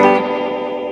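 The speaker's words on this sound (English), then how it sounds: "turned it all off now so we can only hear the delay" A sustained guitar chord through a Strymon Volant echo pedal rings out and trails off into a smeared, repeating delay wash that blurs into a reverb-like tail.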